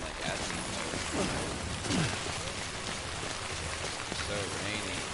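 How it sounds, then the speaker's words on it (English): Steady rain pours down in the video game Death Stranding, a dense, even hiss of drops on surfaces filling the whole stretch, with faint voice-like murmurs mixed into the downpour. "So rainy."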